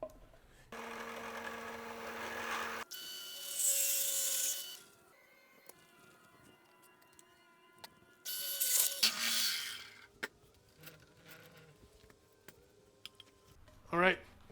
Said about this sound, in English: now we're going to flip it over and drill the hole on the other end